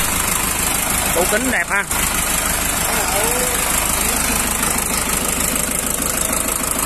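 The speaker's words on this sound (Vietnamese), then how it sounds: "Chà, máy nổ đều dữ ra," A Shibaura D32F Japanese tractor loader's diesel engine idles with a steady, even chugging throughout, close and continuous, while people talk over it.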